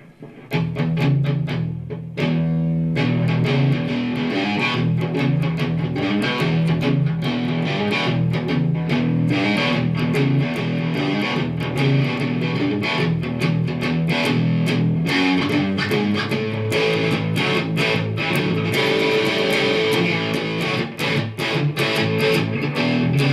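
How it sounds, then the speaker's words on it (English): Electric guitar played through heavy distortion, dense sustained chords and riffs running loud and continuous with no talking. "Let me turn distortion back on."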